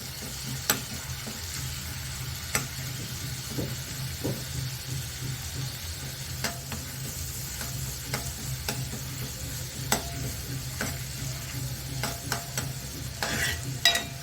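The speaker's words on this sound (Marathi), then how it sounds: "हे सगळं मिश्रण आपल्याला परतवून घ्यायचं" Curry leaves, asafoetida and spices sizzle and fry in a pan for kadhi while a spoon stirs them, with scattered scraping clicks over a continuous close hiss.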